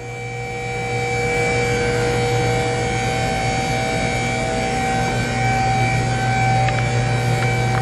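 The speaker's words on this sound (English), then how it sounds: "we're gonna lift the car up now on the hoist" A car hoist lifting a 1994 Acura Integra GSR, its steady mechanical whine and electric motor hum droning continuously at close range, loud and unchanging.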